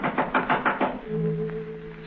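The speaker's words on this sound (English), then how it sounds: "someone knocked at the front door" Five firm knocks rap on a front door in an old horror radio recording, evenly spaced and close, then give way to a low sustained musical tone.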